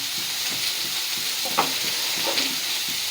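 Onion and green chillies frying in oil in a pan, a continuous close sizzle with soft hiss and occasional stirring clinks and scrapes, no talking.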